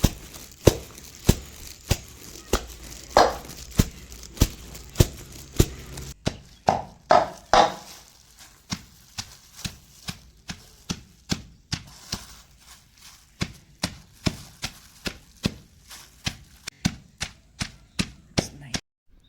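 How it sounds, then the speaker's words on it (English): Wilted mustard leaves being crushed or pounded by hand, a steady series of sharp rhythmic thumps, close and fairly loud, continuing without pause and with no one talking. "Crush or pound the wilted leaves."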